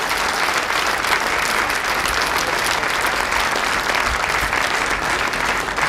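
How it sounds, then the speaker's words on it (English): A large audience at a World Scout Congress bursts into loud, dense applause, a continuous wash of clapping from many hands, close and even throughout with no talking. "would you please give me a huge round of applause for everyone that was invited or organized our World Scout Congress"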